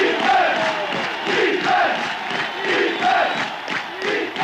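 Football stadium crowd at a 1981 New York Jets game against the Bills chanting for the defense: a loud, sustained roar with rhythmic rising shouts repeating about once a second throughout.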